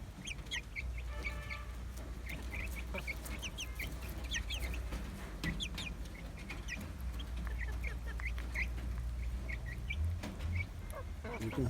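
A flock of chickens feeding on banana and cassava leaves clucks softly and continuously, with scattered short calls at moderate distance over a low background hum.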